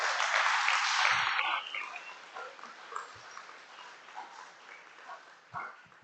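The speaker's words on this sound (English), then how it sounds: "Please a big round of applause for him." A temple audience at a Sunday feast applauds after a class on the Ramayana. The clapping opens loud and full for about a second and a half, then thins and fades into scattered claps and soft room sounds.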